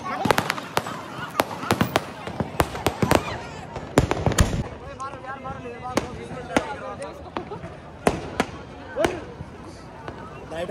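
Rapid firecracker bangs crackle in irregular bursts, sharp and close, with voices talking intermittently underneath.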